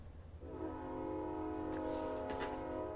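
Chicago commuter train passing nearby and sounding its horn, a steady multi-tone blast that starts about half a second in and holds for the rest of the clip over the low rumble of the train, heard at a moderate distance.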